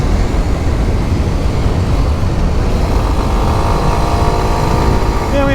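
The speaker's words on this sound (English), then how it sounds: "It's a really, really fun motorcycle to come out and ride on and to shoot videos on." A Kawasaki Ninja 125 motorcycle is ridden at speed, its engine a loud, steady, close drone mixed with heavy wind rush throughout, with a faint rising tone near the end.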